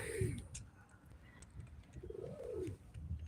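Pigeons coo nearby in soft, rolling calls, two clear coos about two seconds apart over quiet background rustling.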